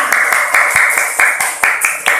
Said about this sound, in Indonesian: Tepuk tangan semuanya, ayo tepuk tangan.